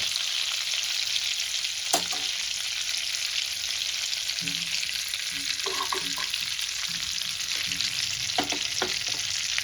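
Oil and butter sizzle in a pan for dhaba-style pav bhaji, a steady close hiss of frying with a few scattered clinks and scrapes of stirring over it.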